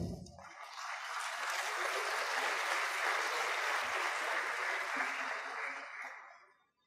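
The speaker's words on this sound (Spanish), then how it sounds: "Lo recibimos con un fuerte aplauso." An audience breaks into loud, sustained applause to welcome a speaker at an entrepreneurship and innovation talk, with dense clapping that swells quickly, holds for several seconds, then fades out.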